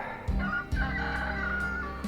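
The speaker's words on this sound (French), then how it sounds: "Il chante bien ce coq, la campagne." A rooster crows loud and close in a countryside hamlet in Cantal, several drawn-out calls running one into the next with no talk over them.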